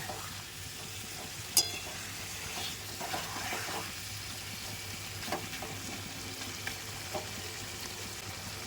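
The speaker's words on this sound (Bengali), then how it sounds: "ততক্ষণে আমার মাংসটা খানি আস্তে আস্তে রান্না হোক" Chicken meat frying and simmering in a pan while being cooked at home for a family picnic, a steady soft sizzle with occasional stirring clicks and scrapes, fairly quiet and continuous without talk.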